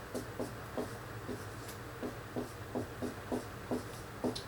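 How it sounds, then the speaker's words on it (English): A pencil eraser rubbing over paper while erasing a math answer, in a quiet room, heard as a series of short, soft scrubbing strokes in a steady back-and-forth rhythm, fairly close. "Let me erase that."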